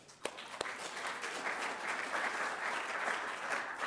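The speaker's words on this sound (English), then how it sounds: "So a round of applause for yourself." Sustained applause from a conference audience, steady and dense clapping filling the whole stretch after a couple of sharp initial claps.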